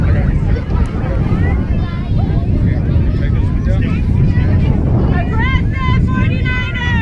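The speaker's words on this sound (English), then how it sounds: "got a little bit of wind here" Wind gusts outdoors at a youth flag football game, buffeting the microphone in a loud, constant low rumble, while voices carry faintly in the background.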